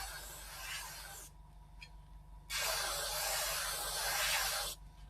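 Airbrush sprays Mr.Metal Color buffable paint in two steady hissing bursts at high air pressure, the second burst longer and louder, with a quieter pause between them.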